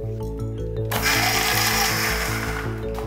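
A kitchen mixer grinder whirs loudly and steadily as it blends raw mango, ginger and cold water into juice, with a strong constant motor drone and grinding texture for about three seconds and no talk.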